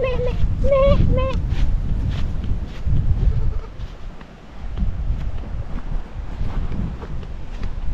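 A voice imitates white goats bleating, a string of short nasal wavering cries near the start, followed by wind buffeting the microphone and quieter background sounds.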